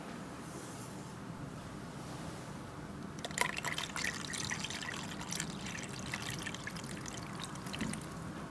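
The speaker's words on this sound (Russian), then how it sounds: "Вода заливается по уровень волны." Water poured into the tank of a Venta LV15 air washer, a quiet steady trickle starting about a third of the way in and continuing with splashing, over low background hum.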